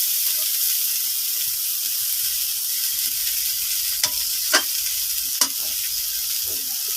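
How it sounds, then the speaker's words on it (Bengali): Shrimp and vegetable stem curry sautéing in a pan, giving a steady close hiss and sizzle with a few sharp clinks and scrapes of stirring near the end. "এখানে আমি সুন্দর করে কষিয়ে নিব।"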